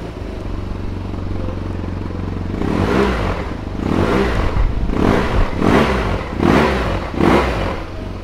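A 2012 BMW R1200 GS Adventure Triple Black motorcycle idles with a low, steady rumble, then is revved loudly several times in rhythmic bursts close by, each rise falling back toward idle.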